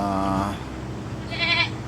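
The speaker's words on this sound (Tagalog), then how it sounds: "yung kambing natin na bulog" A buck goat on a small mini farm lets out a loud, close, quavering bleat that holds steady and then rises into a higher wavering cry, with no talk over it.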